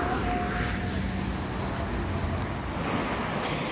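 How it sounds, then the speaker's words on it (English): Steady road traffic roars past a pedestrian near Long Circular Mall in Trinidad. Engines and tyre noise form a loud, continuous wash that stays close throughout. "Oh, all this traffic is coming."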